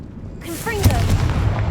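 A Confringo fire spell fired in Hogwarts Legacy lands as a sharp blast with a rising whoosh, followed by a loud rumbling boom that lingers with crackling low energy.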